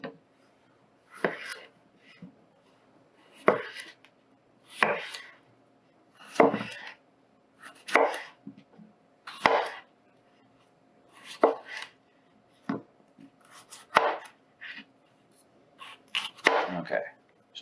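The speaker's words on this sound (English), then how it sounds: "the main reason for cutting these up is just to get them down to a smaller size, a little bit more even pieces" A knife chops potatoes into smaller, even pieces on a cutting board, about a dozen crisp, close knocks landing at a steady, unhurried pace with brief pauses between them.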